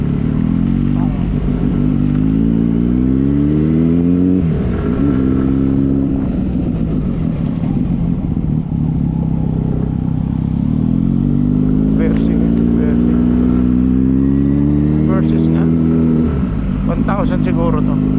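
A motorcycle engine drones and revs up and down in repeated rising and falling sweeps, loud and close, with a voice talking over it.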